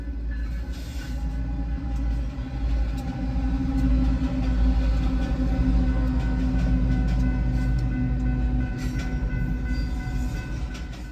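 A long train rolls past, blocking the way to Allensworth State Park in California, with a deep continuous rumble and clattering wagons, faint horn-like tones, steady and fairly close without any talk.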